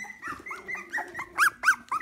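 A young puppy close by gives a string of whiny, rising whimpers and soft growls, uneven and getting louder toward the end, with no people talking over it.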